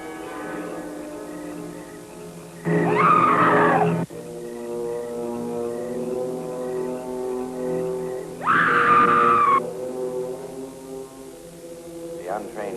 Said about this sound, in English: it is the scream of the white ghost